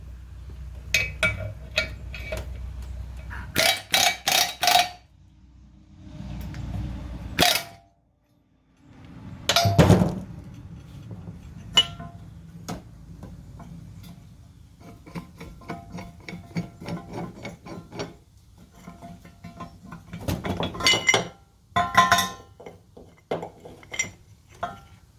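A ball joint press is cranked tight to push out a car's lower ball joint: intermittent metallic clicks, ratcheting and sharp clanks in irregular bursts, with quiet pauses between, close up.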